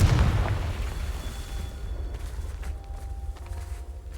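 The Confringo fire spell exploding in the game Hogwarts Legacy, a loud boom at the start that decays into a rumbling, crackling tail with faint scattered pops.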